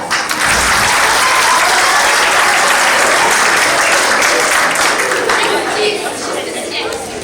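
Loud, dense applause from a crowd at a school awards ceremony fills the space and stays steady, then tapers off slightly at the end.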